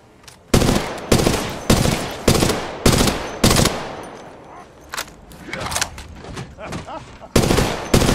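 Rapid bursts of gunfire from the Apex Legends video game, heard as a string of loud, close automatic volleys with short gaps between them over about eight seconds.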